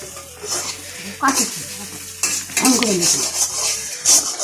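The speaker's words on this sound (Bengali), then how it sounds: "এই হচ্ছে ভাজছে।" Potato chops made with red potato and lentils fry in a pan, a close, loud sizzle broken by stirring scrapes and clinks of a utensil against metal.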